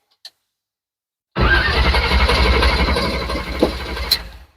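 A car engine cranks and catches after ether is sprayed into it, then runs at a loud rough idle with a couple of brief revs. Silence comes before it apart from one faint click.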